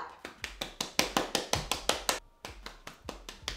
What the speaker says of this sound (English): I am just going to simply clap the crunch out of my hair